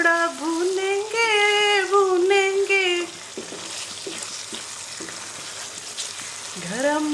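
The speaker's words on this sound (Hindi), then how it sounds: "अब हम थोड़ा भूनेंगे।" Mutton korma with browned onion and garam masala sizzles as it is sautéed in a pan, a steady close frying hiss, partly under a melodic voice at the start and near the end.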